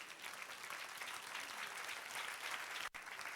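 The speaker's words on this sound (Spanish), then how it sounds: "Dale un aplauso al Señor" A church congregation applauds during a sermon, steady dense clapping from a large group, fairly distant and even, with a brief dropout near the end.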